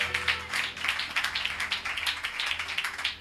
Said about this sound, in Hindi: देखो ताली की आवाज पूरा आ रहा है